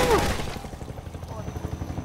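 Rapid, repeated gunfire from the video game Half-Life 2 crackles in a steady burst of sharp shots, with a voice briefly heard at the start.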